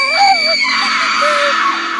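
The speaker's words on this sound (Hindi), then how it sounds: "शिवानी जोर से चिल्लाई" A woman lets out a loud, piercing scream that wavers and trails off over about two seconds, a close, dramatic horror-story cry heard alone.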